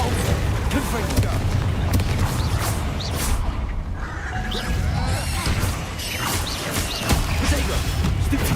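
Fiery Confringo explosion spells go off amid other spellcasting in the Hogwarts Legacy video game, a dense, loud stream of booms, crashes and creaking mechanisms with no pauses.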